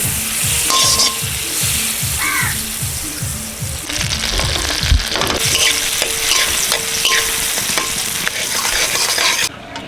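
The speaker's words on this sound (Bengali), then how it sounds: "আমার কড়া হালকা গরম আছে, আমি বাটার দিয়ে দিচ্ছি" Butter melting and sizzling in a lightly warmed kadai, a steady loud fry with rhythmic stirring scrapes through the opening seconds, no talking.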